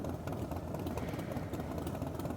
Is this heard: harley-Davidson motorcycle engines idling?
yes